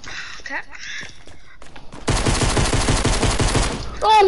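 Rapid SMG fire in a Call of Duty Blackout match, a dense, loud burst of sustained automatic shots lasting about two seconds, preceded by scattered game sounds and in-game chatter.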